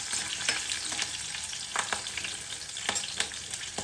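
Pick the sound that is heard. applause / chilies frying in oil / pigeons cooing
chilies frying in oil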